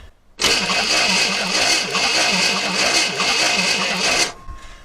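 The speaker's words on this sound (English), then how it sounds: "Sandy, crank it." A 1964 Chevrolet Impala engine, left sitting for 40 years, cranks over loudly and rhythmically for about four seconds, its starter churning in a steady repeating pulse up close before it stops abruptly.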